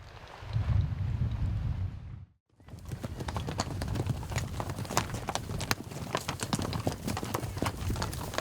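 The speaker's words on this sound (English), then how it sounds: "It's a sight that never gets old, a stampeding horse herd." A stampeding horse herd on a Wyoming ranch, many hooves pounding in a rapid, dense clatter that swells after a brief hush, loud and close with a rumbling undertone.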